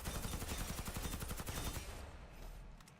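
An ACR rifle in the shooter Warface fires a rapid automatic burst of evenly spaced, loud, close shots for nearly two seconds, then the echo trails off.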